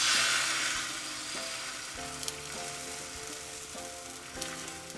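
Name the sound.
egg frying in a pan for Kerala omelette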